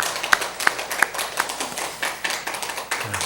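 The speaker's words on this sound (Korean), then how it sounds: "다시 한번 우리 하나님께 영광을 박수 드립시다." Congregation clapping in church during a Sunday service, heard as fairly faint, evenly spaced claps in a steady rhythm of about three per second.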